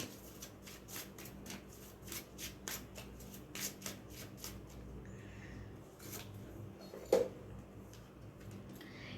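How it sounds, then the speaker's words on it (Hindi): Tarot-style cards shuffled by hand in a quick run of crisp riffling bursts, with a pause, a single sharp tap near the end and a faint hum underneath. "चलिए एक कार्ड लेते हैं और देखते हैं डिवाइन क्या गाइड कर रहे हैं आपको"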